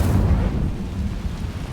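A fiery spell from the video game Hogwarts Legacy erupts as a dense, rumbling burst of flame that rolls on loudly and slowly settles across under two seconds.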